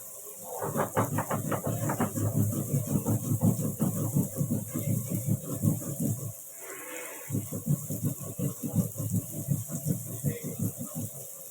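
Bitter gourd fries in a pan for a mixed vegetable dish, making a close, steady sizzling hiss with a rhythmic pulse. It briefly drops out near the middle, then resumes at the same strength.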